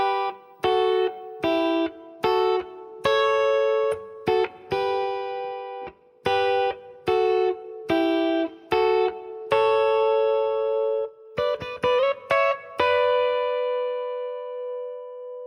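An electric guitar plays double stops on the top two strings, imitating a mandolin: choppy, repeated two-note bursts in short rhythmic groups with brief gaps, bright and loud, closing with a quick tremolo flurry and a ringing sustained chord.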